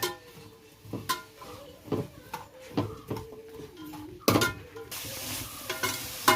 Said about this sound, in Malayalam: ചെറിയ രീതിക്കുള്ള ഒരു ഇളം കളർ ആകുന്നിടം വരെ ഒന്ന് ഇളക്കാം